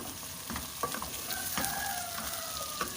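Meat browning in a hot pan for an arbi gosht curry, with a steady crackling sizzle and scattered scraping knocks as it is stirred, close up and continuous, no talk.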